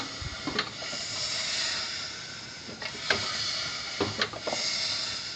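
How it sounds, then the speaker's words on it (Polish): An Audi C4 with the 2.8 AAH engine and a broken timing belt gives off a steady, breathy hiss as the engine is turned by hand on compression, broken by a few soft mechanical clicks and knocks close by. "Tak, sprężanie jakieś tam jest, ale skąd ten syk taki?"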